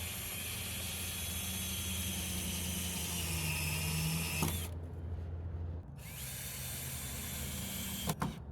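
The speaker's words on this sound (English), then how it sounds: "Now we need to pull that front corner where it goes and screw it in." A power drill drives screws into wood while a deck and garage are being built, whirring steadily for several seconds, stopping briefly, then running again with a couple of sharp clicks near the end.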